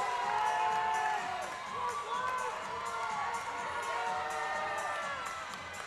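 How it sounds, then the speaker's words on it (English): An enthusiastic arena crowd cheers at a college gymnastics meet as Ohio State opens on vault, sustained shouts, whoops and high-pitched yells rising together, loud at first and easing slightly toward the end. "Enthusiastic crowd, you want to get it off to a good start."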